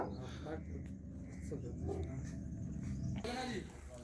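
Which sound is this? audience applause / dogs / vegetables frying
dogs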